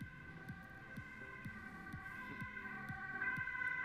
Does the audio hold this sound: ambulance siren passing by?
yes